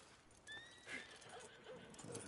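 A horse whinnies in Red Dead Redemption, a clear rising-and-falling neigh near the start, followed by soft hoof clip-clop and ambient game sounds.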